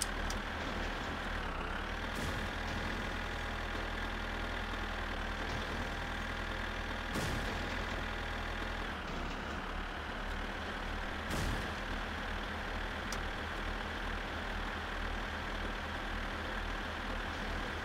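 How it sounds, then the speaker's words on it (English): A tractor engine in the driving game My Summer Car drones in a steady, low idle, with a few sharp clicks and hissing releases breaking the continuous rumble. "Very carefully, just turn the tractor around, please."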